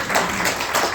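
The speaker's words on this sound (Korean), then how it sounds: "우리 모두를 위해서 박수 한번 쳐줘요" A church congregation applauding during a Sunday service, a brief burst of dense, steady hand clapping from many people filling the room, with no speech over it.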